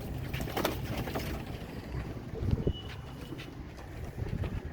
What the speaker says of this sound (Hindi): ये मेरे शौक के कबूतर हैं